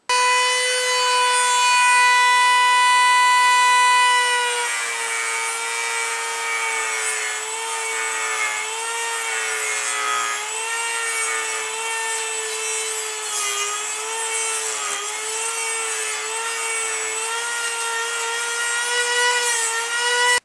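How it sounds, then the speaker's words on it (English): A Dremel rotary tool grinds steel while shaping a cleaver cut from a circular saw blade, giving a loud, steady high-pitched whine that drops and wavers in pitch as the bit bears into the metal. "Some very careful work with the Dremel tool is needed to get this area here down to the steel."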